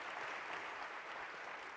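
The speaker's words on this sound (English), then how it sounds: "We can clap for these students." A conference crowd applauding a student panel steadily, a dense wash of clapping that holds even throughout without pause.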